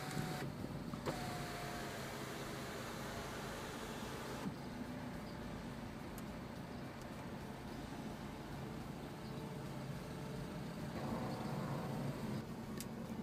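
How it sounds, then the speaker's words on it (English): Dual panoramic sunroof on a 2013 Mini Cooper operating, a steady electric motor whir with faint mechanical tones filling the cabin throughout, with no talking. "the dual panoramic sunroof just operates like this"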